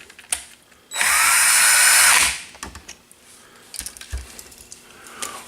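A power driver runs for about a second, driving 3x8mm bolts that mount a motor in an airframe. The whirring burst is close and loud, followed by small clicks and handling noises.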